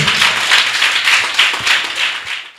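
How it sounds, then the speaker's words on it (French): Pupils of a primary school in Godomé clapping for International Teachers' Day, a loud sustained burst of many hands at once, swelling in waves and tapering off near the end. "Est-ce qu'on peut applaudir?"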